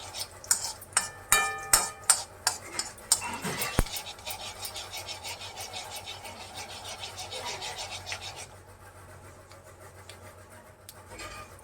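Cumin seeds fry in a pan for a capsicum peanut powder curry. A utensil stirs them in quick, rhythmic scrapes at first, then a softer, steady sizzle and rustle follows, with no talking.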